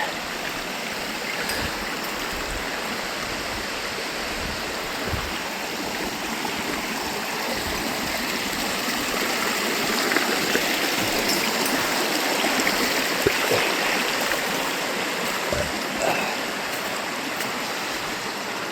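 The Sheep River rushes through an Alberta canyon, a loud continuous broadband roar of flowing water heard up close, swelling slightly midway with no talking.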